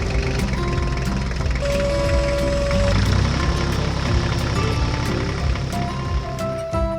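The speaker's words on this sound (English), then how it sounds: "The red tractor moved across the field with precision and dexterity, its engine running smoothly" A red tractor's engine runs steadily in a field while collecting straw, a loud continuous mechanical drone with a little speed variation and no speech.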